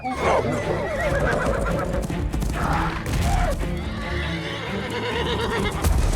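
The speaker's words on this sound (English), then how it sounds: "It's a beautiful horse and so professional on set." A horse used on the film set of Jumanji: The Next Level whinnies loudly several times in rising and falling calls, with hoof clatter and a dense, busy background beneath.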